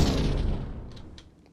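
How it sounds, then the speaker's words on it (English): Explosion-like sound effect designed for League of Legends: a loud, broadband boom that starts at full force and decays over about a second and a half into a long rumbling tail, with a couple of faint bright glints near the end. "It sounds like it's like an explosion."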